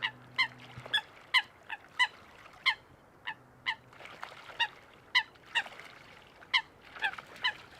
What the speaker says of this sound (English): there are a few birds making some distracting noise over here.